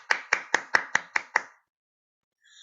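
Seven sharp, evenly spaced hand claps ring out close and clear in a classroom presentation skills course, then stop, followed by silence and a faint brief sound at the end.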